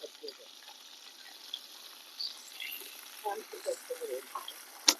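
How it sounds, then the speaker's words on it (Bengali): Sliced ridge gourd frying in a pan of oil left over from frying fish, giving a faint, steady sizzle with scattered soft pops and crackles that grow busier toward the end. "একই তৈলের মধ্যে সবজিগুলোরও ভাজতে নেবো।"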